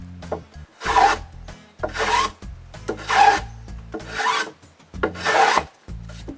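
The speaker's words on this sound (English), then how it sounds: "so I plane it a little" Rhythmic rasping strokes of a hand plane shaving wood, four or five steady passes with short pauses between, close and fairly loud.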